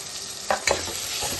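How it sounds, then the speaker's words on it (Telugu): Tomato pieces are added to softened onions frying in a pan for egg curry, giving a soft steady sizzle with a couple of brief scraping clatters in quick succession. "ఇలా మగ్గిన ఉల్లిపాయల్లో మనం కట్ చేసి పెట్టుకున్న టమాటా ముక్కలు వేసుకుందాం."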